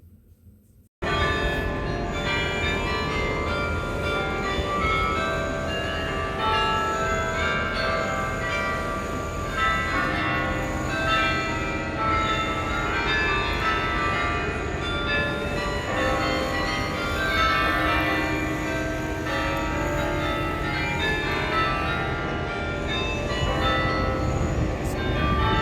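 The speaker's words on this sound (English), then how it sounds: "On the hour, there are 47 bells ringing together." Church bells of the Belfry Tower in Bruges peal together on the hour, a loud, sustained wash of many overlapping bell tones ringing continuously after a brief quiet start.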